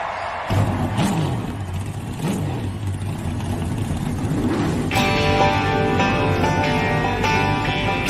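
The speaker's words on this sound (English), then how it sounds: "Driver, start your engine!" Race car engines start and rev at a stock car oval motorsports event, a loud continuous roar that climbs and settles repeatedly, with higher-pitched engines joining partway through.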